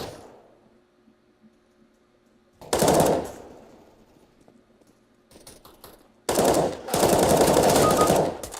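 Gunfire in the video game CS:GO comes as two loud bursts of rapid shots with quieter game ambience and faint clicks in the gaps between them.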